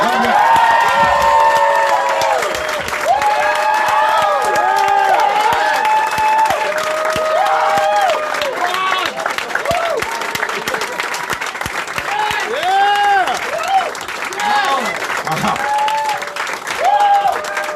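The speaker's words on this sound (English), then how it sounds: "clap it up as loud as you can for Big J Oakerson and the one and only Ron Bennington" A lively crowd claps loudly and cheers with whoops and shouts for comedians Big Jay Oakerson and Ron Bennington, sustained applause carrying on throughout.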